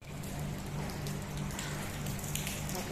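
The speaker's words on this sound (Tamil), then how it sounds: "வெளியே போக முடியாத அளவுக்கு மழை பாருங்கள்" Heavy rain falls steadily in Colombo, Sri Lanka, a dense, constant hiss of drops on surfaces with a low rumbling undertone, continuous and fairly close with no talk.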